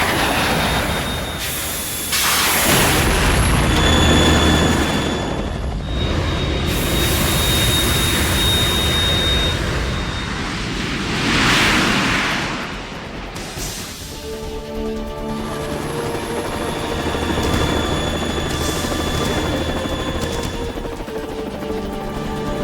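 A Harrier jet in Metal Gear Solid, a loud roaring whine that swells and fades in waves with tonal engine harmonics, mixed with other game noise and no talk.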